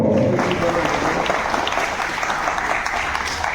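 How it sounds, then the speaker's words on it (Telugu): A crowd claps steadily and densely throughout, a sustained burst of applause at a school alumni reunion honouring a guest, staying loud from start to finish. "కరకర ధ్వనులతో, చప్పట్లతో"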